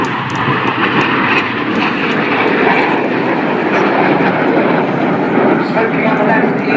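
RAF Red Arrows jets perform an aerobatic display at the RAF Cosford Airshow, their engines producing a loud, continuous broadband roar overhead while a commentator talks over the sound.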